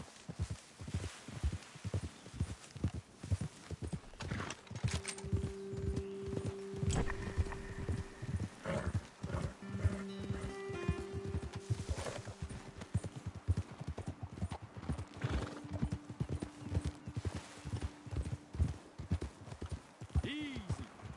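Horses trotting in Red Dead Redemption 2, a steady rhythmic clip-clop of hooves over the whole stretch, with voices talking and a brief whinny near the end.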